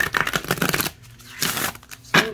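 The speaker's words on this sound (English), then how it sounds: "I love the way they shuffle." A new oracle card deck gets shuffled by hand in close, crisp bursts of riffling and sliding cards, separated by brief pauses.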